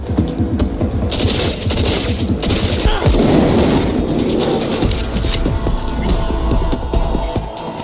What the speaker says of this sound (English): So this is my first time using Karya. The gun.